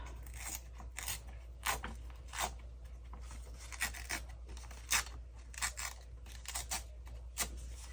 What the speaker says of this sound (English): So let's just rip the edges off.